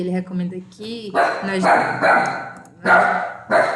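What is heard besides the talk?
dog barking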